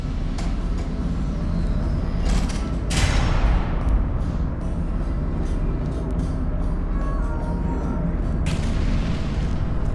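Defective turrets are ground up at a disposal facility in the Portal Revolution video game, making a continuous heavy mechanical rumble. Sharp metallic crashes and booms break through it, one loud impact near the middle.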